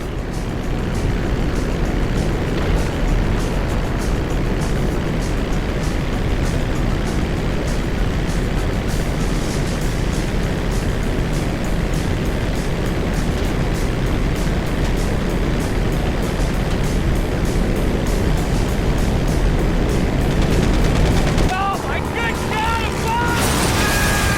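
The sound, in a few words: airplane flying in GTA V video game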